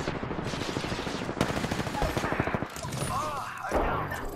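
Gunfire in Apex Legends comes as a rapid, dense automatic burst of close, loud shots lasting a couple of seconds. A mix of explosions and game effects follows.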